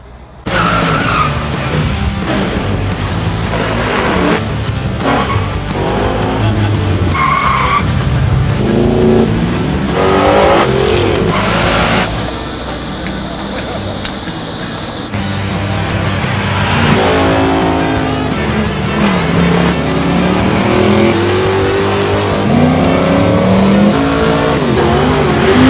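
Supercars at a track reunion roar loudly and continuously, engines revving up and down with tires squealing at moments, one car after another close by and no talking over the noise.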